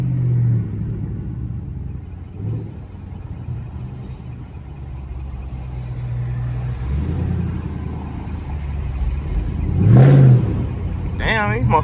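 A Chrysler 300C engine rumbles and revs inside a straight tunnel, the low drone swelling to a louder rev near the end, heard from the cabin with voices talking over it.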